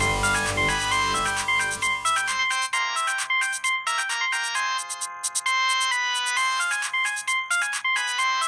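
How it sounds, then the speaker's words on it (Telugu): A phone ringtone plays in a home, a bright melodic electronic tune of quick repeated notes, loud and close, continuing for several seconds with no talk. "దొరగారికి ఫోన్ ఎక్కడి నుంచో?"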